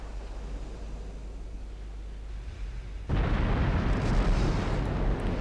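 Warship gunfire from Ultimate Admiral Dreadnoughts breaks out as a sudden, heavy broadband roar that stays loud and sustained after a steady low rumble of background noise.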